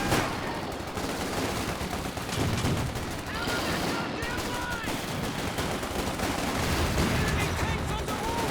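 Tank shells and gunfire crack repeatedly through a Company of Heroes 2 battle, a dense, continuous barrage of shots and bursts with a commentator talking over the combat.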